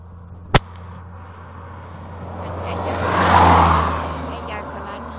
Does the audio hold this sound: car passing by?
yes